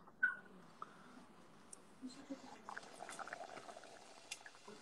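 Bouillabaisse fish soup bubbling in a pot on a stove, a steady close simmer of small pops and gurgles that runs throughout.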